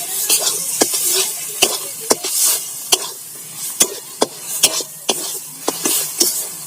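Taro leaves (kochu shak) mixed with grated coconut are stirred and fried in a pan, village style: a steady close sizzle broken by a dozen sharp spatula scrapes and clacks against the pan at an uneven rhythm.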